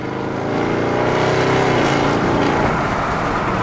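A car with stiffened suspension drives along a road, its engine and road noise forming a loud, steady rumble close by that swells slightly as it moves, with no talking.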